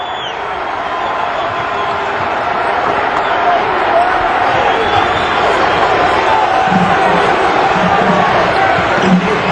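Crowd noise fills a college basketball arena as Illinois State fans stand for their Redbirds against the Bradley Braves in 2006, a steady loud roar with a play-by-play voice running over it.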